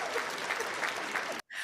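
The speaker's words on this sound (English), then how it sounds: "I'm here to take a big round of applause." A crowd at a live comedic show gives a big round of applause, steady clapping that cuts off abruptly near the end, followed by a brief tail of sound.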